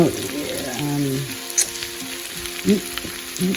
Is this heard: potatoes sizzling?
yes